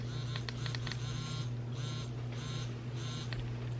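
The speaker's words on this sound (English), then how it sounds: "The other button here is the T, and it's a vibrate on the collar." A Mini Educator e-collar buzzing in vibrate mode, a steady low electronic hum running throughout with faint intermittent higher beeping tones layered on top, close and fairly quiet.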